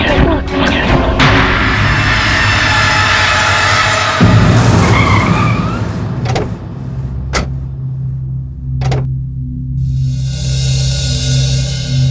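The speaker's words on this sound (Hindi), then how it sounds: "गाड़ी तेज चलाओ ना।" A car driven fast in a chase, with loud engine roar and skidding tires through the first half, then sharp brief impacts and a lower steady rumble; no talking.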